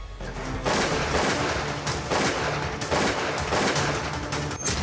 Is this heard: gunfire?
yes